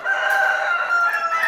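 A Hoffman rooster among breeder hens on a farm crows close and loud, one sustained cock-a-doodle-doo call filling the moment with no talk over it.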